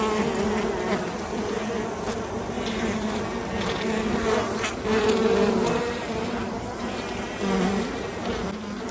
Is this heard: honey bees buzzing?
yes